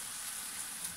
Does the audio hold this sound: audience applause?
no